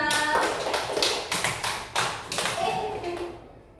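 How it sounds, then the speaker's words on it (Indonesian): Schoolchildren in a classroom clap their hands in a quick, uneven burst of sharp taps lasting a few seconds, with a teacher's voice and children's chatter faintly underneath before it fades. "Ya, tepuk tangan dulu tuh Mesya."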